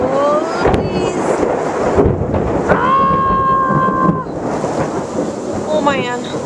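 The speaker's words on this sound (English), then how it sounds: "Buddy, he like took a shower in the rain." Heavy rain pours constantly while thunder rumbles, loud and close, with brief tonal sounds and rustling mixed in.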